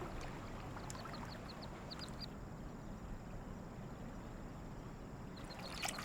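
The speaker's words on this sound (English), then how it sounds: "In the parks of Beijing, mandarin ducks keep a close watch over their young." Mandarin ducks in a Beijing park give a series of short, repeated calls over a steady background of flowing water, moderately close, with no talking.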